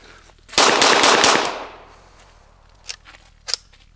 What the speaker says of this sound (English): This is actually a pretty fun little gun.